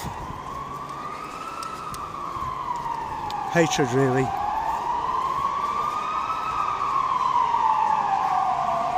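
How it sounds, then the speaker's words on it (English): Fire engine sirens wail continuously along a city street in central Barcelona during unrest, a loud rising and falling tone over street noise, with someone talking briefly. "the fire engines are finally making it down to where I've been just now"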